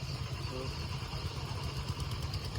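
Riders' motorcycles idle at a vintage car show in Mumbai, a steady low rumble that holds through the moment amid crowd noise.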